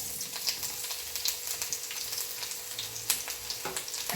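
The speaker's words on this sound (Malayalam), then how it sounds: "സവാളയൊക്കെ ഇടാം." Sliced onions hit a hot pan with ginger and mustard seeds, giving a steady crackling sizzle with small popping spatters throughout, close and fairly quiet.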